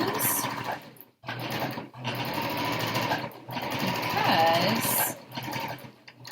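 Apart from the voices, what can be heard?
sewing machine stitching fabric pieces in a chain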